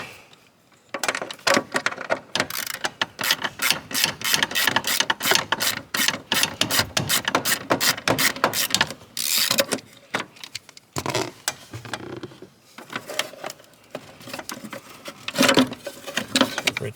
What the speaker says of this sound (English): we'll go ahead and pull out that 8 millimeter and pull the ECU from the kick panel on the driver's side